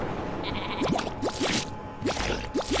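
Repeated short sheep bleats from the Worms video game, about eight quick rising calls in two clusters over steady background game sound and music.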